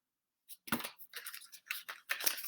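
Tarot cards are shuffled by hand, making several quick, dry riffling and sliding bursts with short gaps between them. The sound is close and fairly quiet against silence.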